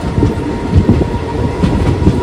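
A train rolls along steadily through the Nallamala forest between Kurnool and Giddalur, its wheels giving a rhythmic clickety-clack over the rails with a constant low rumble, loud and close.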